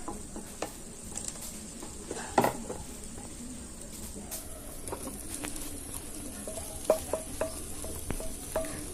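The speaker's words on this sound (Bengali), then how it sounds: "এবার আমি দিয়ে দেবো ভেজে রাখা আলু আর ইঁচড়" Fried potatoes and jackfruit are stirred into spices sizzling in oil, with a steady fry and scraping stirs, while pigeons coo faintly in the background.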